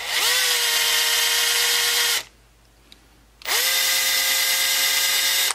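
A Dremel rotary tool flattens the posts on a Matchbox Ferrari Berlinetta, running at a loud, steady high-pitched whine, briefly cutting out for about a second of near silence, then spinning back up to full speed.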